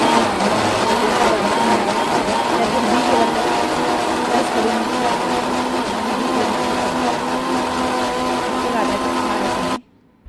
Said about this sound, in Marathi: तर आता मी मिक्सर लावत आहे